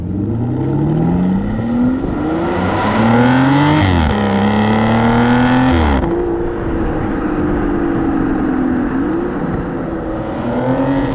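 An Aston Martin Rapide S engine revs up through the gears, pitch climbing then dropping at each shift, loud and close with a steady roar and no talking.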